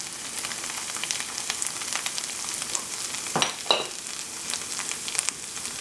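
Tomato paste masala for chicken curry fries in a pan with a continuous close crackling sizzle, a few louder spatters and spoon stirs midway; no talking.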